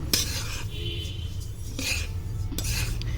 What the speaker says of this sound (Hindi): लेकिन अभी कढ़ाई बहुत तेज़ गर्म है, तो इसलिए अभी 2-3 मिनट चलाते रहना पड़ेगा